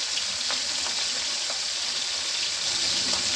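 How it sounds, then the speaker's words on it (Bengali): Chapila fish frying in oil in a pan over medium heat, a loud, constant hiss of sizzling that stays even from start to finish, heard up close with no voices. "চুলা হিটে মিডিয়ামে রেখে আমি মাছগুলো ভেজে নিচ্ছি"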